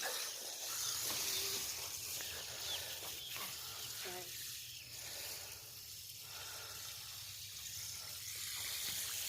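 A steady hissing spray of water from a garden hose runs throughout, close and fairly soft, with faint background noise and occasional small bumps.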